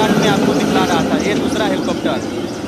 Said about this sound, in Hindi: हेलीकॉप्टर जो है अब देखिए उड़ रहा है